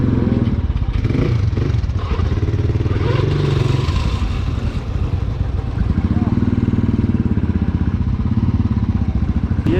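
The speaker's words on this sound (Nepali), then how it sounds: "गाइस, बाइक चाहिँ यही हो।" A CX250SE motorcycle runs with a loud, rough engine rumble, chugging steadily near the microphone with a slight rise and fall in pitch; voices speak faintly over it.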